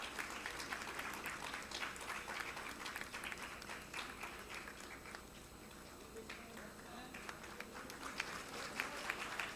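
A large audience applauds at a medical college's annual College Day award ceremony in New Delhi, dense, sustained clapping from a crowd filling the hall, close and steady throughout.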